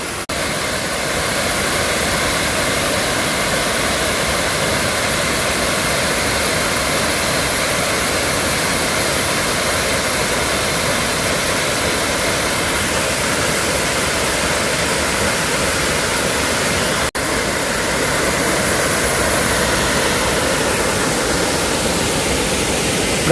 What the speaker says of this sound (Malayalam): കാണാൻ നല്ല രസമുള്ളൊരു വെള്ളച്ചാട്ടമാണ് കേട്ടോ